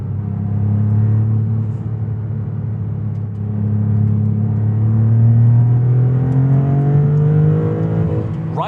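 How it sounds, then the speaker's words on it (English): A twin-turbocharged Maserati MC20 Cielo engine climbs toward its 8,000 rpm redline, a loud, close rumble that rises steadily in pitch through a gear, with no talking. "having a twin turbocharged engine rev all the way to 8K is glorious"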